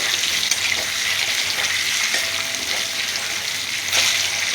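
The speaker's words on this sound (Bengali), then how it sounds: "দেখুন, আমি এবার কচু ভাজছি।" Pieces of taro frying in hot oil in a pan while shrimp and potato are cooked for a Bengali dish, giving a steady, loud bubbling sizzle that runs without a break, with no voices.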